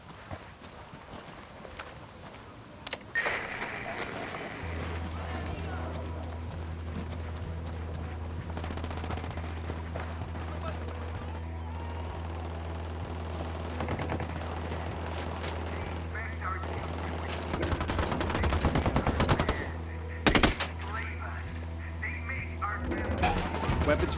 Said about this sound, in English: Those Sicarios are shooting the hell out